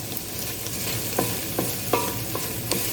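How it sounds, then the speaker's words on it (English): Minced meat frying in a pan over gas turned up slightly makes a constant hiss with a few sharp clicks and scrapes spaced through it, alone without talk. "I'm going to start putting the mince in."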